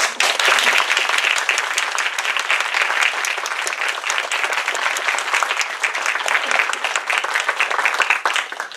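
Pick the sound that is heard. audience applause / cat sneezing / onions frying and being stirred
audience applause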